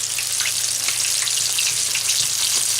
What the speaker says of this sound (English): Oil popping out over here.